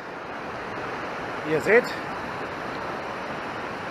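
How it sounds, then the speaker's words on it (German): Pacific Ocean surf at Puerto Lopez makes a steady, broad rushing roar throughout, while someone speaks briefly over it near the middle. "und übrigens ist das der Pazifische Ozean"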